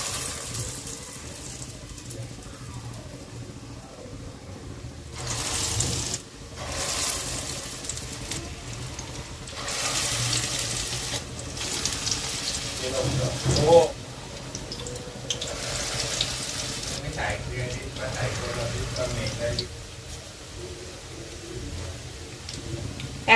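Round bottle gourd kofta balls fry in oil in a pan with a continuous watery sizzle that swells and fades in waves, close and alone.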